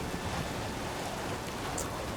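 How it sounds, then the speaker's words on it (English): Wind and rain at night in The Witcher 3 hiss as an even, dense wash of noise high on a mountain, steady throughout and with no voices. "Nighttime, howling wind and rain, super high up."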